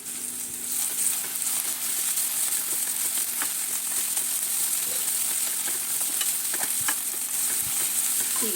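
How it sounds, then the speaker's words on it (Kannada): Onions frying in a pan for white pulao: a steady, close hiss and sizzle with occasional light stirring clicks throughout. "ಈರುಳ್ಳಿ ಚೆನ್ನಾಗಿ ಫ್ರೈ ಆಗಿದೆ"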